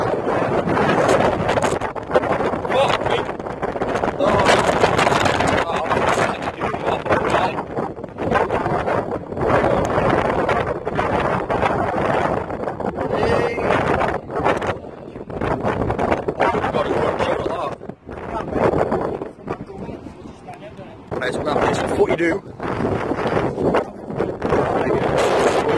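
Strong wind buffets the microphone outdoors at Wallsend, Newcastle, giving a continuous rough roar with surging gusts throughout, and a voice is faintly present beneath it.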